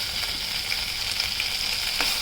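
Ajwain leaves frying in a pan, a close, steady hiss of sizzling oil with faint stirring clicks and small pops over a couple of seconds, no voices.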